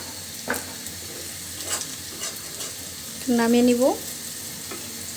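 Onions frying in a pan for a Bengali bhorta, a steady soft sizzle with occasional stirring clinks, and a brief spoken phrase near the end.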